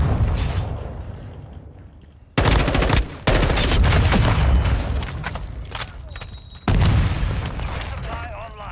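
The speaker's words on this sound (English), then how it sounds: "Throwing a stun grenade!" Heavy gunfire and blasts from a Call of Duty: Modern Warfare II match mix with a loud grenade bang, giving sudden explosive bursts over continuous rattling shots and a battle din, with a voice calling out among the noise.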